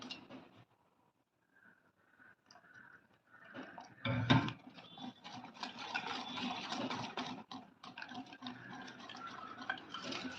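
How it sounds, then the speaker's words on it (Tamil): Water is poured a little at a time into thick gram flour batter for crispy kara boondi. Soft, close, intermittent sloshing and stirring build to a brief louder splash midway. "மாவு கெட்டியாக இருக்கு இன்னும் கொஞ்சமா தண்ணி ஊற்றிக்கலாம்"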